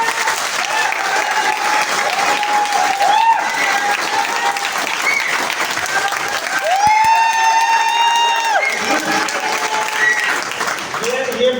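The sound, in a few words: audience applause at a seminar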